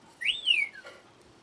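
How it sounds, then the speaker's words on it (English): A makeup set gives off a single short, bright whistling tone that bends up and then slides down, close and alone against near silence. "that whistle noise is my makeup set. Seems to make noise."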